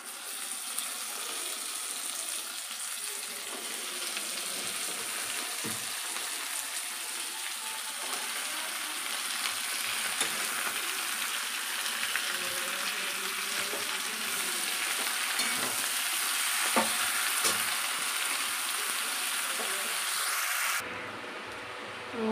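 Malabar spinach frying in hot oil with onion, ginger and garlic, a loud continuous sizzle and crackle that dips briefly near the end, with no voices.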